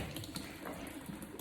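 Steady rush of running water from a tap while a hose is rinsed, continuous and fairly close with no pauses.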